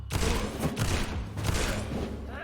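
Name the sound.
shotgun firing in the video game Vampyr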